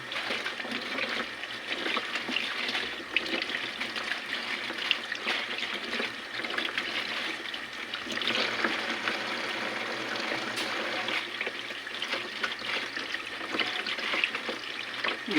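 Milkfish (bangus) being rinsed under running tap water, a steady, fairly quiet stream splashing continuously for about fifteen seconds with no talk.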